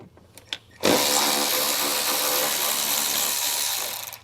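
A power driver fitted with a T40 Torx bit spins out cargo tie-down hardware on a 2022 Jeep: a short quiet lead-in, then one loud, close, steady whir of about three and a half seconds with no talking.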